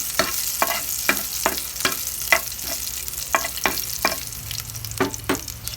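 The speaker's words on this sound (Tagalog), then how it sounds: "igigisa na lang natin yan. Ayan, ito magigisa na ako dito sa kabila ng bawang." Garlic sizzles steadily in a hot pan, with regular scraping strokes of a spatula or spoon every half second or so, close up and without talking.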